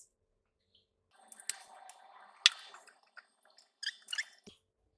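Blended marinade splashes and squelches as it is poured over raw chicken for roasting, with soft wet drips and squishes in short bursts, close and quiet.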